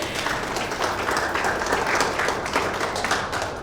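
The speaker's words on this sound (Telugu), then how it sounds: "Claps for him." Audience applause at a real estate project presentation for a Srisailam Highway development, steady dense clapping from a crowd filling the whole moment at even loudness.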